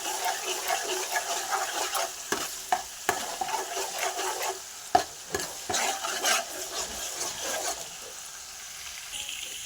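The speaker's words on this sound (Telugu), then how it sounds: "అల్లం వెల్లుల్లి పేస్ట్ వేసేసుకున్నాం ముందుగా. ఆయిల్లో బాగా తేలాలి, వేగాలి." Ginger garlic paste fries in oil in a pan for a fish curry, giving a continuous close crackling sizzle with bursts of stirring scrapes and clinks throughout, no voices.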